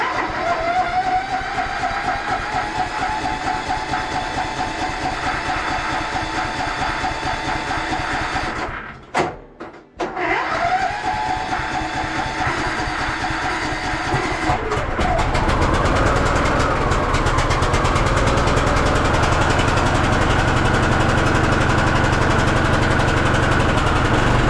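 A car engine cranks and catches after a repair and is reportedly still running poorly, droning loud and steady with a brief cutout near the ten-second mark before the roughened running resumes and thickens.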